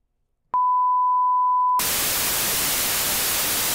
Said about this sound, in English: Yeah, noise, just basic, regular old static.